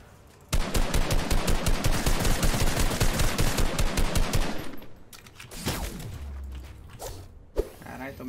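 Rapid automatic gunfire in Fortnite, in long sustained bursts, loud and close, then fading into scattered shots and whooshes with a brief voice near the end.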